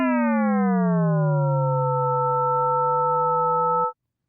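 Synthesized Big Bang chord tone with its fundamental fixed at 220 Hz: a steady, smooth sine-like drone whose upper partials glide slowly downward and merge, lasting about four seconds before stopping abruptly, alone with no talk.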